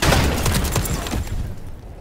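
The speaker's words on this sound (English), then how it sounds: "Airstrike on the way." Airstrike in Call of Duty: Modern Warfare Remastered multiplayer, a dense, loud barrage of rumbling explosions and rapid blasts that rolls on for a couple of seconds before fading.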